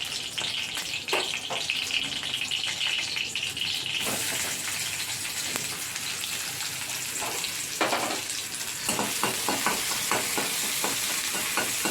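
Chopped onion fries in oil with five-spice tempering for a greens curry, a loud, steady sizzle that carries through the whole stretch, broken by repeated close stirring scrapes against the pan.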